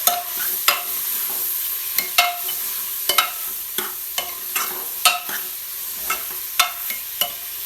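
Onions frying in a pan for a desi chicken curry, a constant sizzle broken by repeated sharp scrapes and clinks of a spatula stirring at a brisk, uneven rhythm, close and loud.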